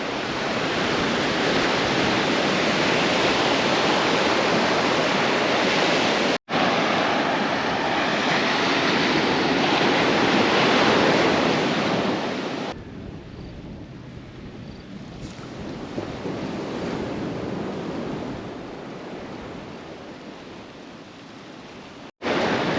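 Ocean surf breaks and washes continuously on a tropical West African beach lined with palm trees, a broad roaring rush heard from nearby, with buffeting wind and a few abrupt cuts, the later part quieter and more distant.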